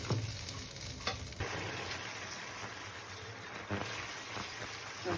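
Prawn and fig curry stirred in a pan, a faint, steady frying hiss with a few soft scrapes and knocks of the spoon near the start and later; low and close, no talking.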